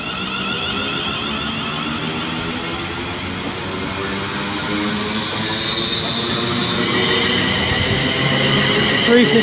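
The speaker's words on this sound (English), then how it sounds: "350-405 is now getting ready to lead away the 1142 London Northwestern Railway service to London Euston" A London Northwestern Railway Class 350 electric train pulls away from Rugeley Trent Valley station on the West Coast Main Line, its motors humming and whining in layered tones that swell gradually louder as it departs.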